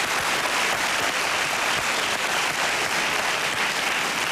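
At a concert at Athens Arena, a large audience applauds the drummer with a dense, steady roar of clapping that stays loud and unbroken throughout.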